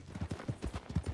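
Horse hooves clip-clop in the RedM game, a quick, steady rhythm of soft thuds at a trot, fairly quiet and alone.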